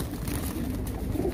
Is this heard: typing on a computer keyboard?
no